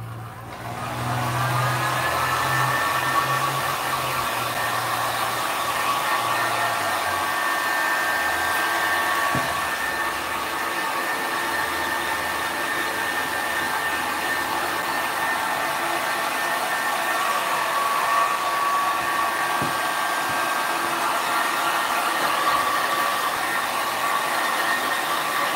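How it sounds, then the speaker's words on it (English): A heat gun blowing over paint on a canvas makes a continuous, loud, even whirring roar that starts up at the beginning and holds steady for the whole stretch, with no speech. "I'm going to run the heat gun over it just to help dry it off a bit"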